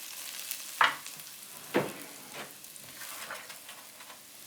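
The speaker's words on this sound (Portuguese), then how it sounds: "Vamos refogar a abóbora e a shalota num pouco de manteiga e azeite." Chopped shallot and pumpkin sauté in butter and olive oil, a soft, quiet sizzle broken by a few sharp scrapes and knocks of stirring in the pan.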